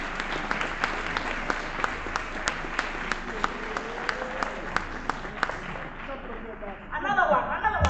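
Sustained audience applause at a school award ceremony, the Legae Academy Award Ceremony, with sharp individual claps standing out from a dense, steady wash of clapping that fades near the end as a new sound rises.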